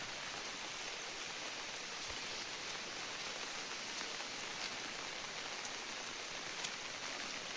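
Rain falling outdoors near hills, a steady dense hiss of drops that stays even and fairly quiet throughout, with no voices.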